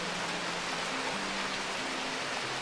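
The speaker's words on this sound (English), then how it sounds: "a lot of rain." Heavy rain pours down steadily outdoors at a fishing resort, a dense, continuous hiss of drops with no gaps and no voices, faint low hum underneath.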